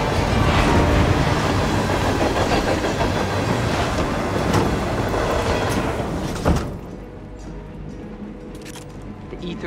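A train rumbles loudly along the rails with rhythmic clacking, then the noise drops abruptly to a quieter hum after a thump.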